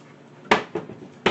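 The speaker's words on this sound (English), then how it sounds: "I'm going to go ahead and put the pan on the stove to get it preheating while I am chopping my veggies." A frying pan set down on a kitchen stove during chicken pot pie prep, giving three sharp metallic clunks a fraction of a second apart, close and moderately loud with quiet room tone between.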